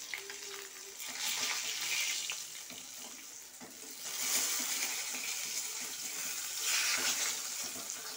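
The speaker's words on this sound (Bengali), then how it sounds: "তো দেখো মাছগুলো ভাজা হয়ে গেছে" Fish fries in hot oil with a continuous, moderately quiet sizzle that swells and eases in a few waves, with occasional light clatter and no voices.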